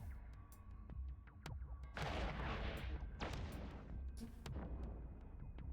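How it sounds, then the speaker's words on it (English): Cannon fire in a long-range shooting video game sounds as a loud booming blast with a rumbling reverberant tail, followed by fainter scattered distant impacts and clicks. "I just want to have that reverb when that cannon blast fires"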